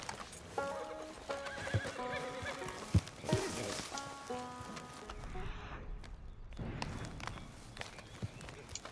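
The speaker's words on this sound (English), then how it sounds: "That's what you get for spooking my horse." A spooked horse neighs and whinnies loudly in Red Dead Redemption 2, with hoof clip-clops and footsteps around it and a short sharp knock partway through, set against ambient game sound.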